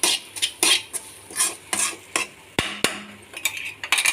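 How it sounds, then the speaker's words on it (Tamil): Grated coconut sautéed in ghee, with a spoon scraping and clinking against the pan in quick irregular strokes over a soft sizzle, close and clear with no voices. "அந்த நெய்யிலே நம்ம துருவி வச்சுருந்த தேங்காவை போட்டு வதக்கிக்கலாம்."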